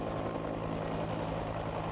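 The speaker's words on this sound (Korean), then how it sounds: "서서히 고개를 내미는 주인공은 전투기가 아닌 공격 헬기 코브라다" A Cobra attack helicopter at a military training exercise, its rotor producing a steady, rapid throbbing chop with a constant engine drone, heard alone at moderate distance.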